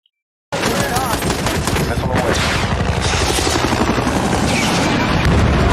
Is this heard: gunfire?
yes